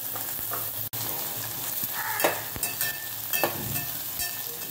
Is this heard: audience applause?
no